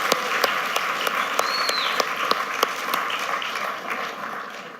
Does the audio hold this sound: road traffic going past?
no